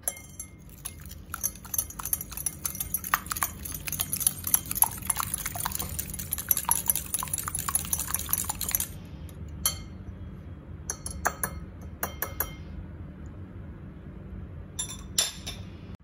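Eggs whisked in a bowl for a crepe batter, a fast steady run of close clinking strokes for about nine seconds, then scattered shorter bursts of clinks with pauses between.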